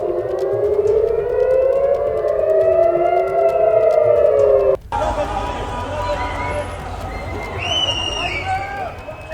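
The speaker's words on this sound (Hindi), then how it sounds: "सायरन पूरे इजराइल में इस वक्त सुना जा सकता है" A wailing air raid siren rises and falls loudly in Israel during an Iranian attack, then cuts abruptly as another siren continues, with crowd noise and voices underneath.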